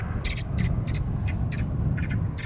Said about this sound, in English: The predator bird. Sound effects that chase away the birds.